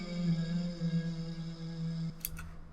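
Sung vocal loop with the mids cut, highs boosted and a heavy wet reverb, a smooth held tone that stops abruptly near the end and is followed by a couple of short, crisp high transients, with no talking.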